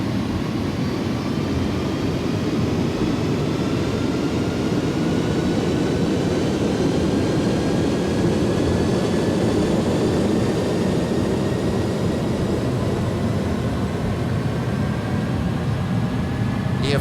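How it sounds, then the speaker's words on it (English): Airbus A310 jet engines in a flight simulator rise in a steady, continuous roar, with a high whine slowly climbing in pitch as they spool up. "I'm going to see that my engines are spooling up and stable."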